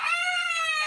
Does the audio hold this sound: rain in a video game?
no